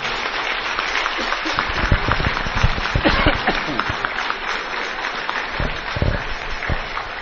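Gathered audience clapping in triumphant applause at a religious gathering, a steady, fairly loud patter of many hands with occasional sharper claps.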